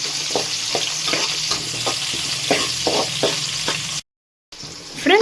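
Onions sauté in a pan for a Tamil bitter gourd stir-fry, a loud close sizzle with regular scraping strokes of a spatula, briefly cut to silence before the frying resumes.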